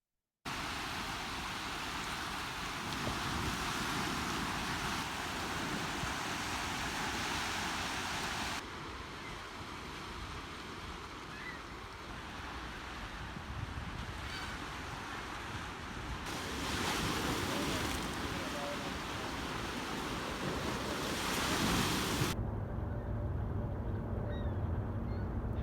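Waves lapping on a lake shore among sand dunes, with steady wind buffeting the microphone; a continuous broad wash that swells and eases in sections, with no voices.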